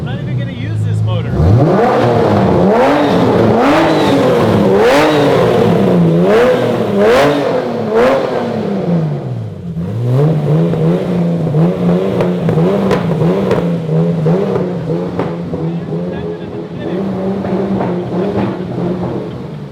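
A car engine revs repeatedly in rising and falling bursts, loud and close, with voices talking over it; the motor is a stand-in engine fitted to a newly revealed car until a replacement arrives.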